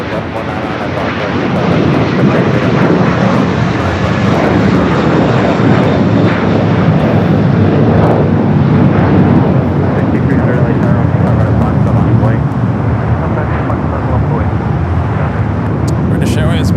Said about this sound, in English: British Airways making its way, just turning from Papa to Bravo.